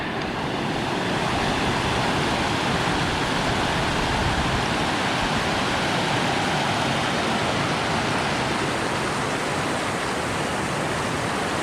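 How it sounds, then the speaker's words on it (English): River water rushes through tide pools in Belize as a loud, steady, broadband roar that fills the whole stretch without a break, close and unvarying, with no voices audible above it. "I don't know if you can hear me over the water"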